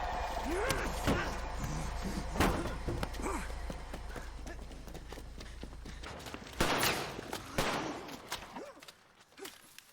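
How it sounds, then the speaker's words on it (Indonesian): Masked men firing pistols in a western film scene: sharp gunshots break out over hoofbeats and the film's voices, loud and close, with a heavier burst near the end. "dua pria bertopeng datang membawa pistol dan menembaki mereka"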